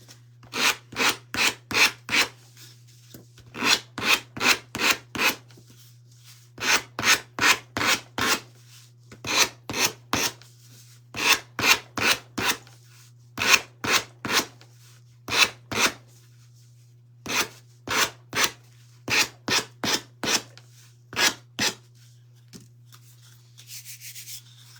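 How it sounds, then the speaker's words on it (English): The edges of a small wooden coaster are hand sanded in rapid bursts of rasping strokes, several strokes per burst, repeated many times in a steady rhythm over a constant low hum. "let me sand the edges off the green."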